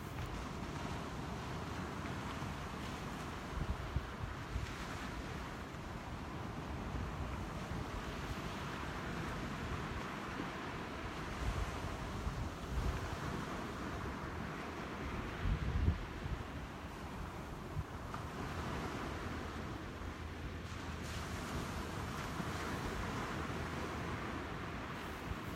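Ocean waves and wind on a beach at sunrise, a steady, soft rushing wash of surf with gusty wind noise buffeting the microphone throughout, no voices.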